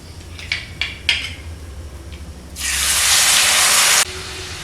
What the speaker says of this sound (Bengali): এখন আমি যে মশলার মিশ্রণটা রেডি করে রেখেছিলাম সেই মশলার মিশ্রণটা এখন তেলের মধ্যে দিয়ে দিচ্ছি।